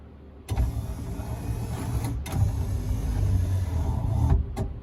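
Power windows of a 1955 Ford Thunderbird running after repair, an electric motor whirring steadily for several seconds with a brief pause and restart, close and fairly loud, with no talking.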